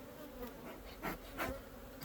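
Honey bees buzz at a backyard apiary in south central Indiana, a steady faint droning hum with a couple of louder swells as bees pass close.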